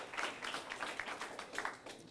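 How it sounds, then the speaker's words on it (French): A school audience at a high-school trophy event gives a short round of applause, faint and distant, with soft scattered claps. "On applaudit pour lui, s'il vous plaît."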